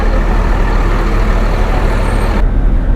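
A TVD First Class combination bus, first-class seats in front and sleeper berths behind, rumbles loudly up close with a heavy engine and broadband hiss, ending in a sharp air-brake release.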